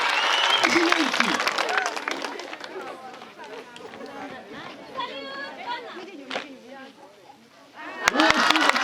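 Audience applause at a Master Guide investiture ceremony after a girls' marching drill, a burst of clapping and crowd noise at the start that gives way to loud chatter and voices, then claps again at the end.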